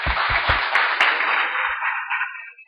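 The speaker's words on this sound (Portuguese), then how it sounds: "Uma salva de palmas para os palestrantes" A live audience applauds the speakers at a business lunch talk. A few sharp nearby claps open into a full burst of crowd clapping that holds, then thins and fades out at the end.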